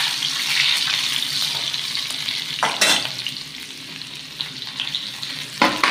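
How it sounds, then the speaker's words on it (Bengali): Chopped onion frying in plenty of hot oil gives a steady, close sizzle, with a couple of brief stirring scrapes punctuating the crackle. "তো ফার্স্ট আমি এখানে দিয়ে দেবো পেঁয়াজ কুচি"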